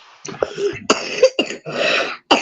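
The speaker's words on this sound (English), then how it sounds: "that coughing woke her up" A man coughs hard several times in a row, harsh, close and loud bursts separated by short gaps, with some throat clearing.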